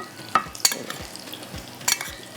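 A Turkish sheesh kabab mixture being stirred and mixed in a bowl, with a few sharp utensil clinks and soft scraping, wet mixing strokes, close and fairly quiet, no voices.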